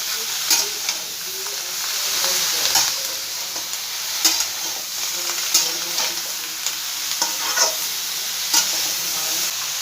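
Spices frying over a medium flame for a mixed vegetable curry, stirred steadily in a pan: a continuous close sizzle with repeated spatula scrapes and taps at an uneven rhythm throughout.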